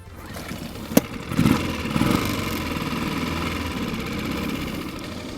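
An outboard motor on a small boat at the Llyn Brenig reservoir starts with a sharp click, then settles into a quiet, steady idle that runs on evenly.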